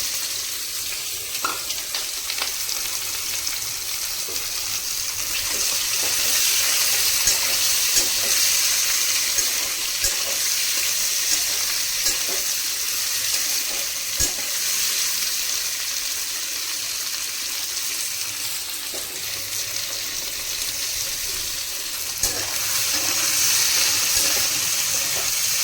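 Onions and slit green chillies frying in a pan for chicken curry, a dense, steady sizzle that holds throughout, with occasional faint clinks of a spoon and the odd stir; no one speaks.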